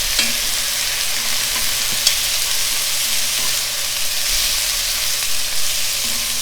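Pieces of meat browning in a hot pan give a steady, close sizzle that runs the whole time, with a few faint clicks of stirring and no voices.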